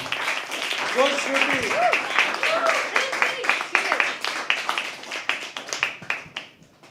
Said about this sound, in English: Start clapping for the first performer.